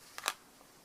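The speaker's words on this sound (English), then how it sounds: "then you can cut your thread off" Two quick snips of scissors cutting sewing thread after finishing a crocheted bell flower, close and crisp against a quiet room, with no talking.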